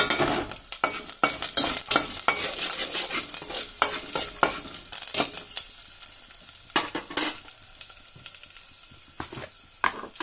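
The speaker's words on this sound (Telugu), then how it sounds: "వెల్లుల్లి వేగిన తర్వాత జీలకర్ర ఆవాలు ఎండుమిర్చి కరివేపాకు వేస్తున్నాను" Fried garlic, then cumin, mustard seeds, dried red chillies and curry leaves crackle and sizzle in hot oil, with sharp popping bursts and stirring scrapes that gradually settle into a softer fry.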